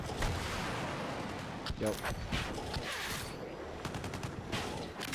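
Rapid bursts of strafing gunfire from a helicopter in a video game, cracking in irregular clusters against a constant engine-like roar, with a brief spoken word.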